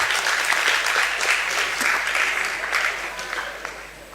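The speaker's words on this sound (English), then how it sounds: "Let's clap for her." Audience applause at an inter-school debate on ECOWAS regional integration: a steady, dense wash of many hands clapping close by, holding for about four seconds before thinning slightly toward the end.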